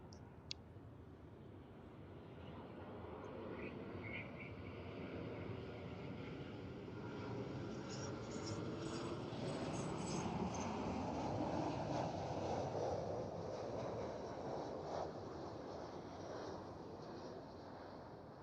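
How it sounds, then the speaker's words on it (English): A Southwest Airlines Boeing 737-800 jet arriving on runway 24 right, a steady broad engine roar that swells gently toward the middle and holds through the whole stretch, with light wind buffeting and no talk. "Next up, Southwest Airlines Flight 313 coming in from San Jose, California. It's a 737-800. The next arrival on 24 right."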